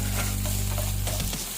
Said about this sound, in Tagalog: Fry natin itong onion.